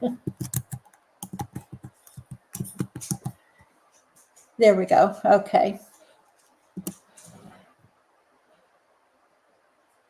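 Clusters of clicks from typing on a computer keyboard come in short bursts, close and clear, with someone talking briefly between them.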